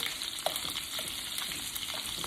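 Shrimp fry in a pan, giving a close, even hiss and crackle of sizzling oil that holds steady throughout with small pops.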